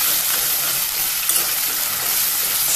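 Boiled onion and cashew paste frying in a pan for a vegetarian festive thali, a dense, steady close sizzle with a single brief clink partway through, no voices.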